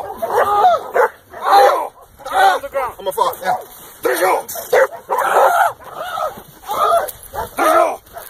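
A roughly 12-month-old dog barks and yips in repeated bursts during a dog workout session, loud and close, interleaved with people talking and shouting commands.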